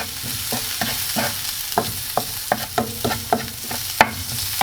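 Spiced bread-roll filling with chili powder and salt stirred in a hot pan, repeated spoon scrapes and taps in an uneven rhythm over a soft sizzle, close and alone.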